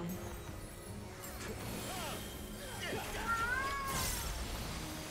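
A cat meows several times, drawn-out, wavering calls near the microphone over a busy background of game sound and a steady hum.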